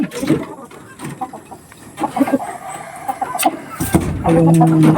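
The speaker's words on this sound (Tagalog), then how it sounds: "Ito po yung manok ni Krishna mga kaidol" A pet chicken belonging to Krishna clucks in short bursts at a rural house in Davao, fairly close, over outdoor background noise.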